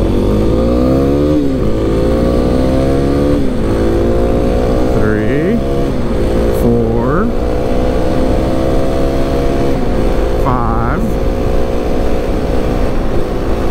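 Kawasaki KLX 300 dirt bike labouring to gain speed on a test ride, its engine droning loudly and climbing through gear changes with repeated short dips in pitch, heard close with constant wind rush.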